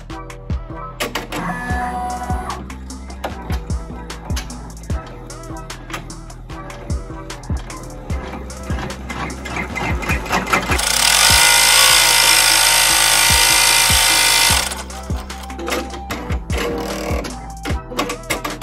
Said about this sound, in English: This applique actually stitches out one letter at a time.